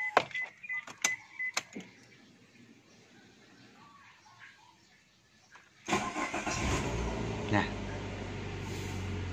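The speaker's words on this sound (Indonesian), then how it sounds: "sekarang kita coba nyalakan mesinnya" A 2014 Daihatsu Sirion in neutral is started: after some clicks and light taps in a quiet cabin, the starter cranks and the small engine catches abruptly, settling into a steady close idle.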